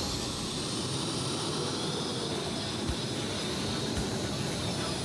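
A tractor pulling competition on a clay track, with a powerful engine roaring continuously and loudly throughout, a steady dense mechanical blast with no talk.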